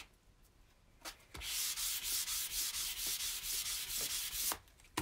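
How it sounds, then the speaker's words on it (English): Steady rubbing sandpaper strokes along the edges of a book during a restoration, starting after a quiet pause with a few light taps, then continuing in a dense, even rhythm before stopping abruptly. "I'm going to sand the edges, this edge and this edge"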